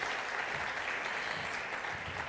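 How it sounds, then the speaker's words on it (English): Audience applause at a diversity in science and tech event as a speaker is welcomed on stage: dense, continuous clapping from a sizable crowd, steady and even throughout. "Round of applause."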